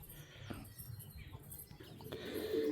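Restless female pigeon fluttering and beating its wings while held in the hand, a soft scuffling flap against steady background noise, fairly faint and close.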